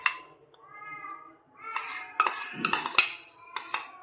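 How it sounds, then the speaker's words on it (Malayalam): Fish being mixed by hand with a spice paste for frying, giving soft wet squelches and light clinks of a bowl or utensils in intermittent bursts, close and moderately loud, with no talking. "ഇനി ഈ മസാല നന്നായിട്ട് ഒന്ന് മിക്സ് ചെയ്തെടുക്കാം"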